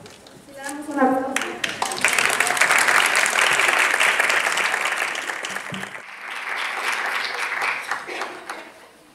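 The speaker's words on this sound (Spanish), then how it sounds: "Le damos un aplauso" Audience at a congress on apnea physiology breaks into loud sustained applause, building quickly after a brief voice and tapering slightly near the end, with some talk underneath.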